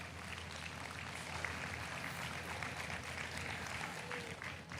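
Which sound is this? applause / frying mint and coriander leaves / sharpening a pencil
applause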